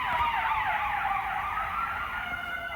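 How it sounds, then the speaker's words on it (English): An emergency vehicle siren wails loudly outside, its sweeping rising-and-falling tone continuous and steady throughout, close enough to dominate the scene. "Okay, that's a loud siren."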